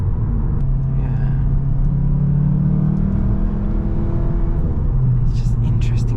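Steady low car rumble from inside a 2023 Cupra Leon as it rolls over an uneven road surface, with faint bumps and a brief voice near the end.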